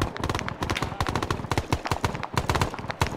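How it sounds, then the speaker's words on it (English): A flak gun in Arma 3 fires a rapid, steady stream of loud, close shots in a fast rhythmic chatter that runs without a break. "That flak gun is still on."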